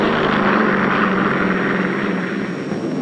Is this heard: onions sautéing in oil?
no